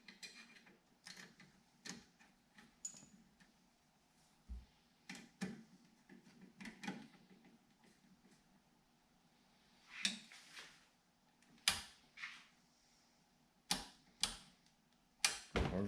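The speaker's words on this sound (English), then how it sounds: "Turn signal lever here." A turn signal lever on a universal steering column is flicked back and forth, giving a sequence of sharp close clicks and snaps, irregularly spaced and growing louder and denser toward the end.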